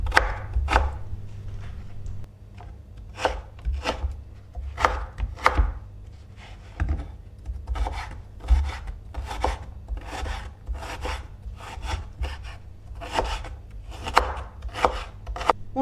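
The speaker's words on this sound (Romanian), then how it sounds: "o bucată mică de rădăcină de pătrunjel tocată în cubulețe" A knife chops parsley root into small cubes in brisk, regular strokes, each a sharp close knock, with short pauses between bursts and no talk.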